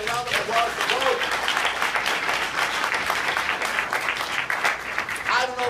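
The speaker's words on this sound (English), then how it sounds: "How about a round of applause for Mr. Cross and a round of applause for both?" Audience applause at the end of a political debate in Chicago, a sustained burst of many hands clapping from a nearby crowd, with a voice speaking briefly at the start and end.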